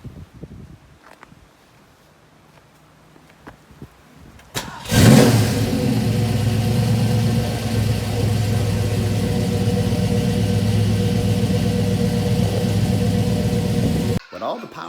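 A car engine starts up and revs loudly and steadily for about ten seconds before cutting off, with quieter outdoor ambience and faint sounds before it begins.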